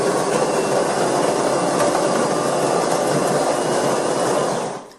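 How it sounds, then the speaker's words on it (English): Delonghi ECAM23210SB super automatic coffee machine grinding beans for one cup, a steady loud whirring grind running nearly five seconds before cutting off abruptly, with no voices. "That was the sound of the coffee being ground by the machine."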